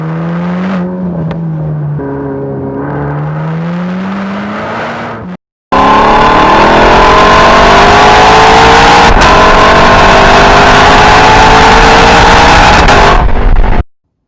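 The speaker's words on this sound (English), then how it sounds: "The LC500 has an amazing exhaust." A Lexus LC500 exhaust revs loudly, first a lower rising-and-falling drone, then after a brief cut a sustained, climbing roar close by.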